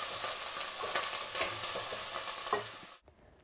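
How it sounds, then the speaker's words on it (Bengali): Ginger and spices are stirred and fried in a pan for a Bengali chalta (elephant apple) pickle, giving a close, continuous sizzle with scraping spoon strokes throughout before it cuts off abruptly near the end. "এখন আদা দিয়ে দিচ্ছি, আদা দিয়ে কিছু সময় নাড়বো"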